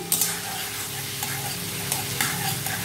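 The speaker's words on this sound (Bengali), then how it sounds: "আদাটা ভালো করে কিন্তু ভেজে নিতে হবে, কেননা কাঁচা গন্ধ থাকে।" Ginger paste frying with potatoes in an oiled pan gives a steady close sizzle, with a few sharp spatula scrapes and taps against the pan breaking through.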